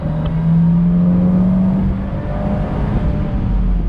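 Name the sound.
Fiat 124 Spider Abarth exhaust sound while accelerating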